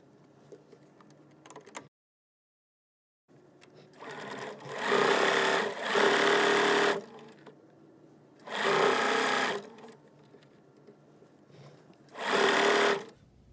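A sewing machine stitches a seam in pajama pants fabric, running in four bursts of steady mechanical whirring separated by short quiet pauses, close and clear.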